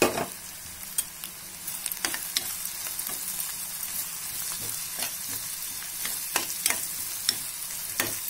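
Chopped onions fry in a pan with ginger-garlic paste and coriander powder, a continuous close sizzle broken by frequent sharp scrapes and clicks of a stirring spoon.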